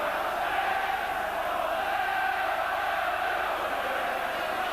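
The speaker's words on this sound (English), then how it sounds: "The crowd, the St Helens section, roaring out when the Saints go marching in" St Helens supporters singing and roaring "When the Saints Go Marching In" during a rugby league final against Leeds, a dense sustained crowd chant at steady volume, distant and filling the stadium.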